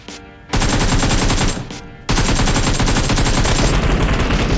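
Rapid automatic gunfire from an assault rifle in the mobile battle royale game BGMI, loud sustained bursts broken by a short pause, with a high tone ringing over the shots.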